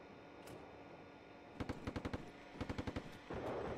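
Two bursts of rapid machine-gun fire in the Steel Beasts Pro PE combat simulator, each a quick string of about six sharp shots over a low background hum, with no talk.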